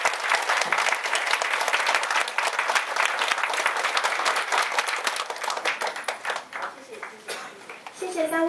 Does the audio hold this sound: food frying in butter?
no